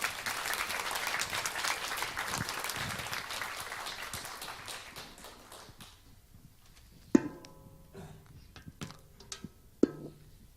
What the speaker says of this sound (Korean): 우리가 주님 안에서 격려의 박수 부탁드리겠습니다